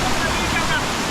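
Rushing water at Owia waterfall in St. Vincent, a loud, continuous broadband roar close by with no break over the short moment.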